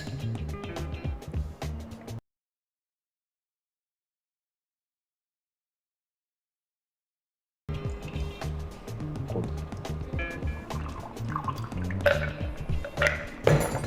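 Liquid is poured into a glass while a virgin michelada mocktail is mixed: a steady splashing, dripping pour, heard close up before and after a stretch of silence.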